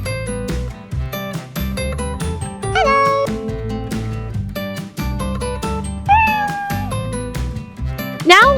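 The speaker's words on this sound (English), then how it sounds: "Wow, is a cute cat." A cat meows several times over steady background music, its short rising and falling calls standing out clearly at moderate loudness.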